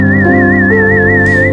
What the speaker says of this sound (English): It sounds like guy whistling.